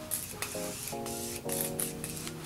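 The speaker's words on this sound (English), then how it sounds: "let's go ahead and spray ourselves with the setting mist" A makeup setting mist sprayed onto the face in a few quick, soft hissing bursts, partly masked by background music.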